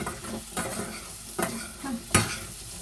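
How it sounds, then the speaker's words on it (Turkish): Food sizzles and crackles in hot oil while a utensil stirs it, with scraping clatters against the pan. "Tavuklarımızı da hemen seri bir şekilde kızartalım inşallah."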